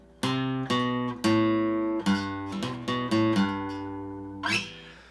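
An acoustic guitar picks a quick riff from a song, with about ten bright plucked notes in uneven rhythm, each ringing out and decaying, played alone and close.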